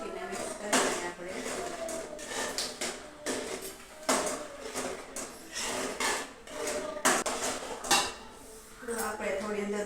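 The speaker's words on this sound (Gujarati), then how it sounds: "મસાલો નાખીને મિક્સ કરી દઈએ આપણે." Masala being mixed into a vegetable sabzi in a pan gives repeated clattering scrapes and knocks of a spoon against metal in an uneven rhythm, with a voice talking at times.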